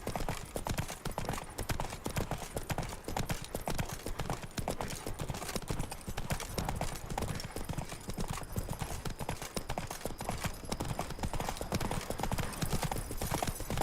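Horse hooves clip-clop at a steady, busy trot through the whole stretch in The Witcher 3: Wild Hunt, Blood and Wine expansion, close and continuous, with faint game ambience beneath.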